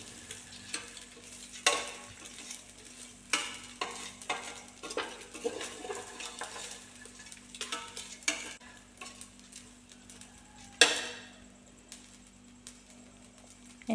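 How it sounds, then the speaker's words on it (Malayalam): Ghee-coated rice is stirred in a pan with a spoon, producing repeated scraping and clinking strokes over a soft, faint sizzle, in an irregular rhythm with one louder knock near the end. "ഒന്ന് നന്നായി ഇളക്കി ഇതിൻ്റെ ഇതെല്ലാം ഒന്ന് നെയ്യെല്ലാം അരിക്ക് പിടിക്കുന്ന വിധത്തിൽ ഒന്ന് ഇളക്കി കൊടുക്കാം"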